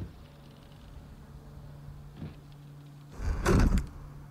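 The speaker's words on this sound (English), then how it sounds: "Let's close that door." A door closes in the A Quiet Place: The Road Ahead video game, one muffled heavy thump near the end after a faint creak and a low steady ambient hum.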